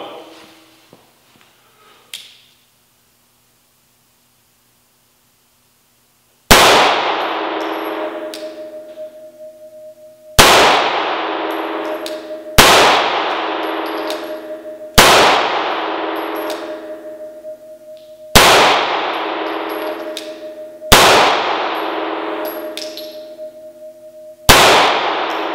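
A Springfield EMP4 Contour pistol fires seven shots at steel targets after a quiet start. Each loud crack is followed by a ringing metallic clang that decays over a second or two, with the shots spaced a few seconds apart.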